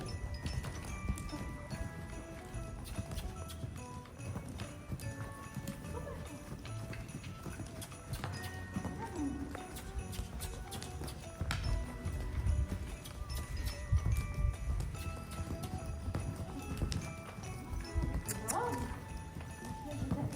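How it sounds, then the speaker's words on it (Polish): Horse hooves clip-clop steadily in a continuous rhythmic pattern, close and moderately loud, while people talk over them. "Dobry koń."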